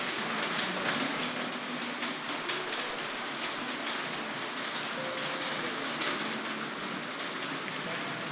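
A Tri-ang Hornby R.753 Bo Bo electric model locomotive pulls illuminated Mk2 coaches around a layout, giving a faint, steady motor whir and light rail clatter throughout.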